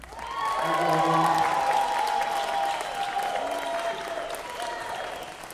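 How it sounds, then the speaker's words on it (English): Concert hall audience applause at Ford Hall, a loud sustained clapping crowd with a few cheers swelling then slowly tapering, while a voice or sustained tones sound over it. "One more round of applause for everyone."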